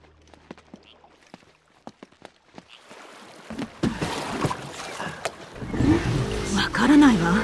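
A vehicle driven in the game Uncharted: Drake's Fortune (El Dorado): sparse clicks and taps give way to a steady, rising engine roar with whining pitch sweeps that grows louder toward the end.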